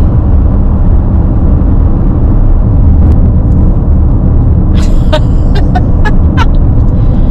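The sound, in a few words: car driving on the road behind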